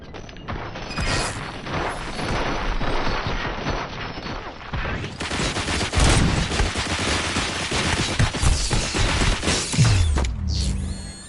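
Gunfire in the video game RoboCop: Rogue City, a dense, chaotic stretch of rapid shots mixed with mechanical clanks, crashes and impacts, loud and continuous, ending with a short electronic sweep.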